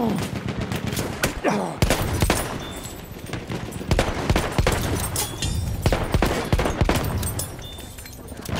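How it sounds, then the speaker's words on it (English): Pistol gunfire in the video game Battlefield, rapid sharp cracks fired in fast bursts with short pauses, loud and close over a busy battle background. "In Battlefield, Skelly cleans up with this pistol."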